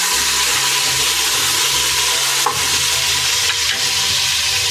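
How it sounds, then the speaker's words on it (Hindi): Dry fruits, cloves and orange peel fry in hot oil in a pan, a loud steady sizzle broken by a few sharp scrapes of a spoon stirring, with no voices. "अब इसमें ड्राई फ्रूट डाल देंगे। ये कुछ सेकंड के लिए बस चलाऊंगी मैं।"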